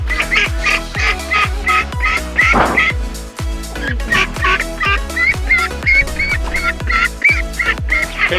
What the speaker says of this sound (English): let's go get some ducklings